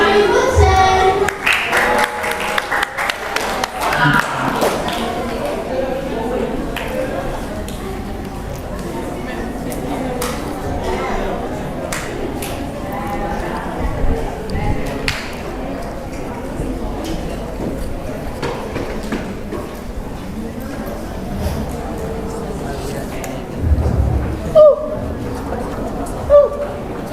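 Applause from a speech-contest audience at the Speak Up Summit 2026 welcoming an evaluator to the floor: a dense burst of clapping at the start, then a sustained, softer crowd wash with chatter through the rest.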